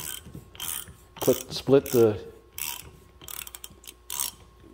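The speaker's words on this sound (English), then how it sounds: "put the socket over it, and then work the socket back off rather than trying to start it." A ratchet socket works a thread chaser back off a bolt, giving several short bursts of quick metallic clicking separated by pauses, with some brief speech in the middle.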